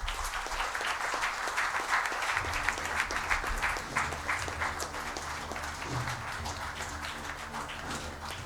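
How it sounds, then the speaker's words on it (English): A conference audience at an inaugural session applauds during a bouquet presentation, a sustained wash of many hands at moderate distance with a faint rhythmic tapping underneath. "A big round of applause, please."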